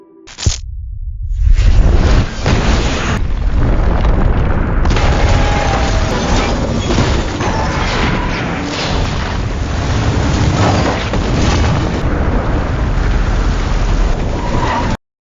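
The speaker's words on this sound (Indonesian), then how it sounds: "nuklir itu akhirnya meledak, dan kekuatannya begitu besar sampai tanah di sekitarnya ikut runtuh" A massive movie nuclear explosion erupts with a sudden deep boom, then a sustained roaring rumble of collapsing ground and debris that stays loud and dense to the end.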